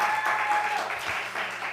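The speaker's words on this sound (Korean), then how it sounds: "박수로 축복합니다." A church congregation breaks into warm, steady applause during a Sunday morning worship service, a dense wash of clapping that holds for a couple of seconds without talk.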